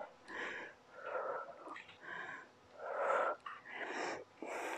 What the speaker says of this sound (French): Allez, allez, soufflez bien.